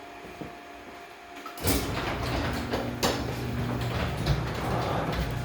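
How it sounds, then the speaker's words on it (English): A door opening on a home brewing setup, with a sudden sliding, scraping release followed by ongoing mechanical rattling, clicks and a steady hum, close and moderately loud, with no talk. "I'm gonna open up the door now"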